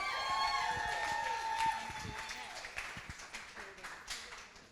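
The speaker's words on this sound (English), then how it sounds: "Go ahead and start clapping now. Give it up for Julie Maritek." Applause and cheering from a comedy tour audience greet a comedian taking the stage, with dense clapping and crowd noise that gradually thins and fades over a few seconds.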